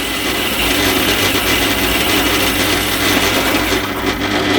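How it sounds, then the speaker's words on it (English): A small pillar drill whirs steadily as the bit grinds into metal for an engine stand, a constant motor hum with a gritty cutting texture. "This is a very small pillar drill we're doing this with."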